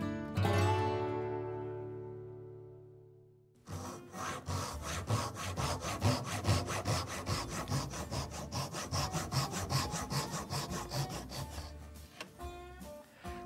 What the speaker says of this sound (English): I'm using the David Barron dovetail guide, which helps me with my sawing.